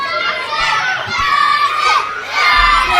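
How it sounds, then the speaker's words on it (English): A crowd at a live wrestling show cheers and shouts loudly, with high-pitched yelling and excited voices overlapping throughout. "So the crowd here at Kemsley cheering for Danny Black, and they would like to see."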